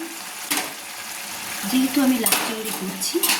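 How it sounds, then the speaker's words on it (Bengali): Fried prawns being stirred with bottle gourd in a pan for Bengali lau chingri, with soft utensil scrapes and clinks over a low sizzle, close by and moderately loud. "ভেজে রাখা চিংড়ি মাছগুলো দিয়ে ভালো করে আমি নেড়ে নিলাম"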